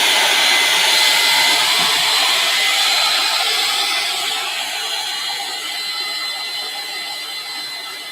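A hair dryer blowing on wet mural paint runs loud and steady at close range, a dense whooshing roar that eases slightly in level partway through, with no voices.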